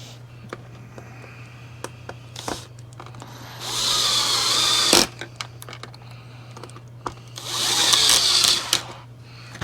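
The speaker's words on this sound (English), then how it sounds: "the last two big screws are going to go right there." Two large screws are driven into the plastic shell of a Bissell SpotClean Pro carpet cleaner, two separate whirring bursts of a power driver a few seconds apart, close, with light clicks and handling noises between.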